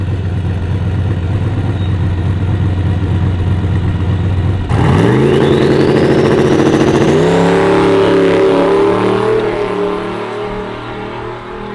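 A Silverback Z06 Corvette idles loudly at a drag strip, then launches on a racing pass, its engine roaring up in pitch and fading into the distance.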